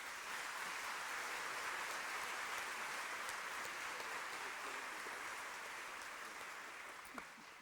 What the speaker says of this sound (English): please join me and give these individuals a round of applause